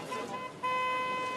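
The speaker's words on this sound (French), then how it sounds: "Arrête de klaxonner à chaque fois, papa" A car horn honks in steady sustained tones, cutting out briefly then returning louder and holding, close and with no other sound.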